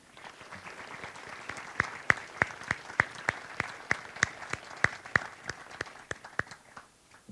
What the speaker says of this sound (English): Please join me in a round of applause for all of our distinguished visitors.